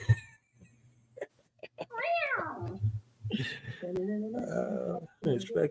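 A cat meowing while being rubbed, giving several rising and falling meows and softer chirps between quiet rustling, close by, with a person speaking briefly.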